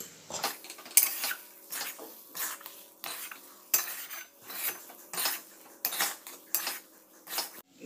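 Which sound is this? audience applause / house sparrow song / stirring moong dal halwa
stirring moong dal halwa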